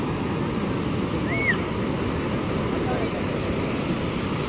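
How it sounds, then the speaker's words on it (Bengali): Sea waves break on a beach in a steady, dense rush of surf close by, with wind buffeting the microphone and a faint distant bird call, continuous and fairly loud. "এই দেখো ঢেউটা দেখো, কি সুন্দর সুন্দর ঢেউ আসছে"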